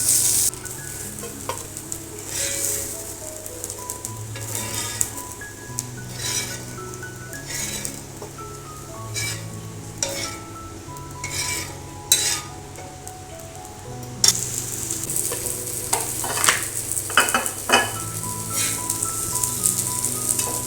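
Raw plantain slices roast in a pan for a spiced stir-fry, a soft continuous sizzle under frequent clinking and scraping stirs at close range, with no talking.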